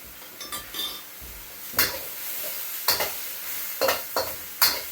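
Beef stir-frying with dark soy sauce and oyster sauce for a dry-fried beef noodle dish sizzles close by, while a series of loud scraping tosses and clinks of a utensil against the wok punctuate the hiss.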